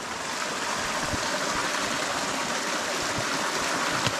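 A mountain creek rushes and gurgles steadily during a hike on the Viking Circuit in Victoria, a close, continuous broadband water flow while water bottles are filled.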